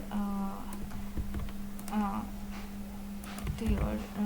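Clicks of typing on a computer keyboard sit under a voice explaining a software tutorial, with a steady low electrical hum throughout.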